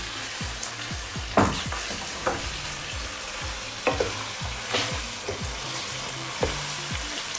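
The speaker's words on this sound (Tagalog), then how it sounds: "Cover and simmer again for another 5 minutes" Beef lasagna meat sauce simmers and sizzles in a pan, with a spoon scraping and stirring in short repeated strokes over a steady bubbling hiss. It sounds close and moderately loud, and no one speaks.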